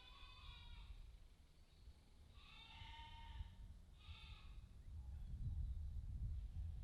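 Sheep bleat several times in the distance in Suchitoto, El Salvador, separate calls spaced a second or so apart, over low rumbling wind or background noise.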